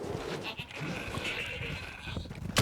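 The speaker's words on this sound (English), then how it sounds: "Big ass goat." A large goat bleats in the horror game Resident Evil Village, a drawn-out cry set against a dense wash of game ambience and background noise for a few seconds.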